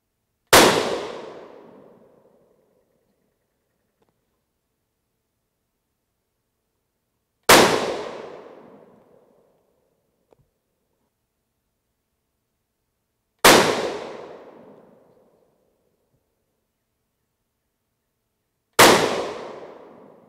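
Four sharp .223 Remington rifle shots firing 40gr V-Max handloads with N133 powder, each a loud crack with a decaying tail, spaced several seconds apart with silence between.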